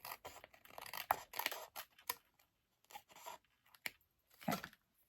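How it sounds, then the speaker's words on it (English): Several quick, crisp snips of scissors cutting through paper, close and fairly quiet, in short irregular bursts separated by brief pauses. "Trim this off a little."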